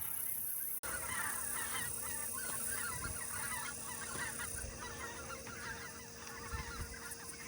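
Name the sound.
geese honking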